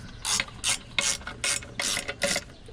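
A ratchet clicks in quick bursts while tightening the intake manifold bolts on a Land Rover Discovery 2, six short rasping strokes in an even rhythm, close up.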